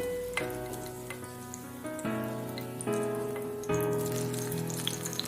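Bitter gourd strips, cut lengthwise, sizzling in hot oil for a traditional Bengali sukto, with a steady fry under a layered background of music-like tones and no talk.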